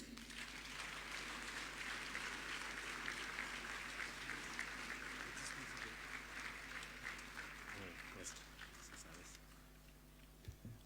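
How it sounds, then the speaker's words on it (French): An audience at the opening ceremony of an assembly session applauds Amadou Soumahoro, president of the Assembly, after his speech, with sustained, dense clapping that thins slightly toward the end. "encore des applaudissements, s'il vous plaît, pour Monsieur Amadou Soumahoro"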